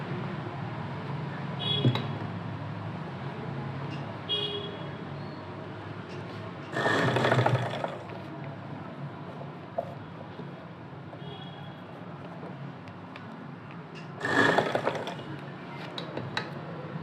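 A sewing machine stitches fabric while gathering puffed blouse sleeves, running in two brief whirring bursts about seven seconds apart, with soft handling noise and a steady room hum in between.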